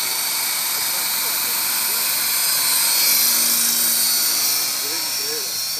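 A Trex 550E radio-controlled helicopter flies with a steady, high-pitched electric whine and rotor hum that swells slightly and eases off, while people talk continuously in the background.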